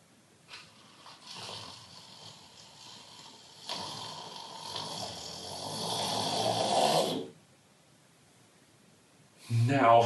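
A storyteller's voice imitating a rat snoring, soft breathy snores rising and falling in two long drawn-out breaths, close and quiet, followed by a brief burst of voice at the end.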